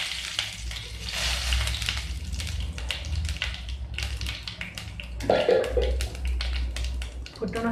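Spices crackle and sizzle steadily in hot mustard oil for a curry, a dense continuous frying hiss with a brief stirring scrape partway through.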